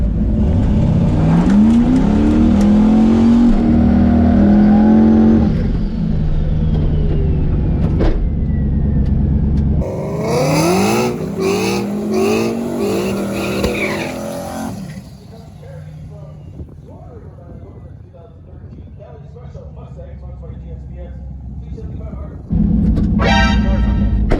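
A turbocharged 5.3 LS V8 Mustang revs hard and roars through rising gear pulls on a drag strip pass, then fades into the distance before a loud burst of engine noise returns close by.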